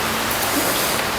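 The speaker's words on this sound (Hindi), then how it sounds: "ये देखो कितना ज़ोर से बारिश शुरू हो गया" Heavy rain pouring down outdoors on a Pune evening, a steady, dense broadband hiss that stays even and loud throughout with no voices.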